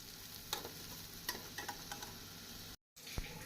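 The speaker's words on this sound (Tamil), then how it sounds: "வெல்லம் சேர்த்து நன்றாக கிளறி நாம் அடுப்பை ஸ்விட்ச் ஆஃப் செய்து விடலாம்" Potato fry being stirred with jaggery in a pan, soft scraping and stirring scrapes with a faint sizzle, several distinct spoon strokes, quiet and close, with a brief dropout near the end.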